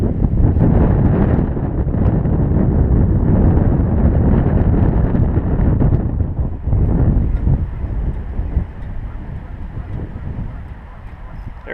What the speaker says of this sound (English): Oh, stinking wind.